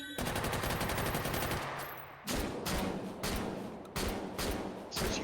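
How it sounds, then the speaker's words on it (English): Rapid gunfire from a video game, with machine gun bursts switching to shotgun blasts, comes as loud repeated shots in clusters close to the listener, with no talk over it. "from the machine gun to the shotgun to take out the smaller pieces of this encryption, back to the machine gun to finish it off"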